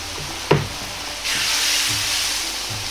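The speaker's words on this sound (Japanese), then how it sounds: "鍋がグツグツと煮えるように熱いスープを入れるのがおすすめです" Hot soup poured into a wok for moyashi soba, hitting the pan with a sudden clack and then a steady, loud hiss and sizzle of boiling liquid that holds through to the end.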